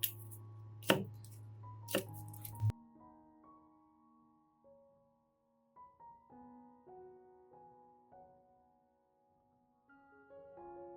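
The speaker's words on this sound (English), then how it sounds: "finely chop the 3 garlic cloves" Garlic cloves chopped with a knife on a board: two sharp, close knife strikes over a low hum, followed by soft background music with no further chopping.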